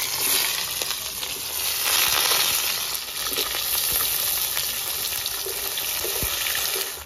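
Onion hits hot oil in a pan with dried chillies, whole garam masala and bay leaf for chicken kosha, giving a steady, close sizzle with faint clinks of stirring throughout.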